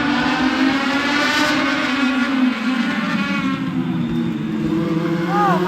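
Race cars accelerating at the green flag at Charlotte Motor Speedway, a steady loud engine roar that holds through the clip, with higher whining engine tones rising near the end.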